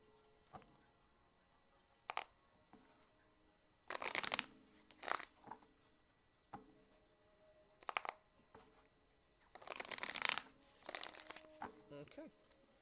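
Tarot cards being shuffled by hand at a reading, heard as intermittent soft papery riffles and crinkling bursts, with quiet pauses between them and a faint ticking in the background.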